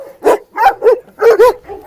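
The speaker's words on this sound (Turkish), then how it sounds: "Şu anda biraz sakinleştiriyorum köpekleri de." A Kangal and a Rottweiler barking in five sharp, close bursts, one quickly following another, loud with no other sound underneath.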